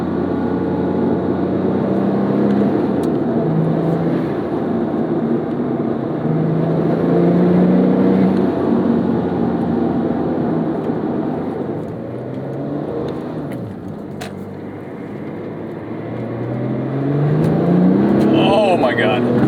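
A 2008 Porsche 911 GT2 (997) drives over a bumpy road, its engine droning steadily with shifting revs, road and wind noise, and a voice talking over the cabin sound.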